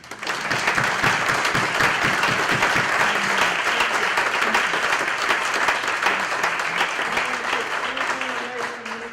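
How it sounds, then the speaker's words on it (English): A church audience at a Black History Month readings service at the United Church of Chapel Hill gives a full, sustained round of applause for the women being honored. The clapping is loud and dense, with a few voices mixed in. "And I'd like to ask you guys to give a round of applause for these women."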